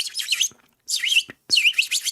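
Several bursts of high, rapid bird chirping and tweeting, three bouts separated by brief pauses, fairly close and clear, with no talking.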